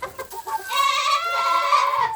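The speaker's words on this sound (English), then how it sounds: "We've ended up with 2 cockerels." A rooster crows loudly and near in a dark farm shed housing hens and goats, preceded by a few short clucks, one drawn-out call filling most of the moment.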